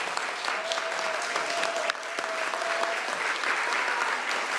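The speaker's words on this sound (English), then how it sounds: "We can give you one more round of applause." An audience at a public health champions award ceremony gives steady, dense applause that holds even throughout, and a faint voice carries over the clapping.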